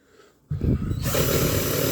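A motor whirs up abruptly and keeps running at a steady, loud pitch, the close buzzing drone of a power drill spinning.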